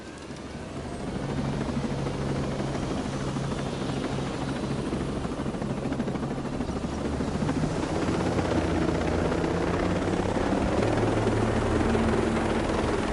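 Enemy helicopter in Ghost Recon Breakpoint on PS5: a continuous rotor thrum and engine whine that grows slightly louder after the start and holds steady and close throughout.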